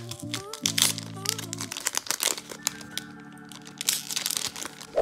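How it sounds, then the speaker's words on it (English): A Pokémon Shining Fates card pack wrapper crinkles and tears open up close, crackly foil rustling throughout alongside background music tones. "Guys, my first Shining Fates pack. Let's open it up."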